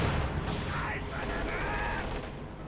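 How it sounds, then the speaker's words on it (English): Company of Heroes 2 battle with a German mortar crew firing and rifle fire, a dense continuous rumble of explosions and gunshots throughout. "German mortar crew continues to fire away there."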